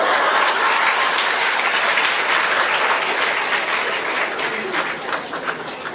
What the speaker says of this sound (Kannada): ಏನು ಕೇಕೆ ಹಾಕ್ಕೊಂಡು ಚಪ್ಪಾಳೆ ಹೊಡಿತಾ ಇದ್ದಾರೆ